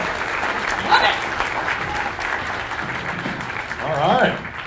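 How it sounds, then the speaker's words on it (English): Audience applause at a National Civics Bee in Buena Vista, Colorado: a sustained patter of clapping from a modest room crowd, swelling briefly at the end, with a host's voice talking over it. "Another round of applause."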